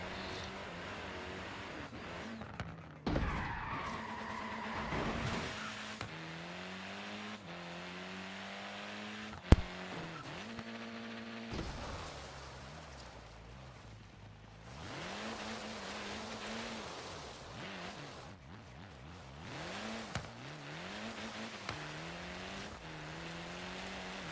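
A car drifts through corners in the racing video game Forza Horizon 3, its engine rising and falling as it revs, with short tire squeals as it slides. There is no talk.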